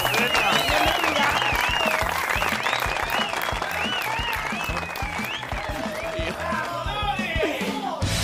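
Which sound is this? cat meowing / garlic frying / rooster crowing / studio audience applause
studio audience applause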